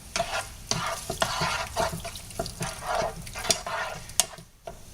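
Garlic stirred with a spoon in a hot pan, a soft steady sizzle broken by repeated scraping strokes, close and fairly quiet with no talk.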